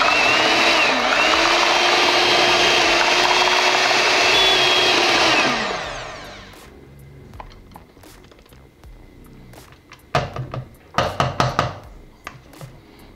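Corn bread batter with vanilla essence gets a final whirl in an electric mixer, which drones steadily for about five seconds before winding down. Several sharp knocks and clatters of utensils against the bowl follow.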